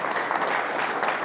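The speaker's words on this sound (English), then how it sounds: "round of applause for our speaker." A brief, loud burst of audience applause for a guest speaker at a congressional series event, many hands clapping steadily and close, without any voices on top.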